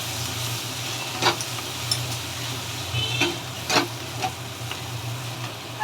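Tangra fish sautéing in a pan with cumin, coriander powder and salt, giving a steady sizzle under a low hum, with a few sharp spatula scrapes and clicks spread through it.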